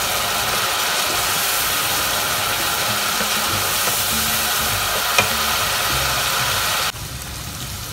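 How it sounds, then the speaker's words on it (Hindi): Arvi kofte frying in hot oil, a steady dense sizzle with faint stirring clatter running throughout, easing slightly near the end; no one speaks. "और इसको लाइट ब्राउन होने तक हम इसी तरह फ्राई करेंगे।"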